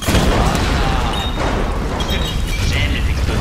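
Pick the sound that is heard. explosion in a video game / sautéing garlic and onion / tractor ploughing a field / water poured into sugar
explosion in a video game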